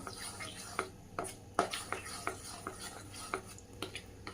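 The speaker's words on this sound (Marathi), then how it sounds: "बॅटर जे आहे ते अगदी स्मूथ झालं पाहिजे आपलं एकसारखं असं फेटून घेऊया" Semolina cake batter whisked in a bowl, a spoon or whisk tapping the side in an irregular rhythm of light clinks over a soft steady swish, fairly quiet and without talk.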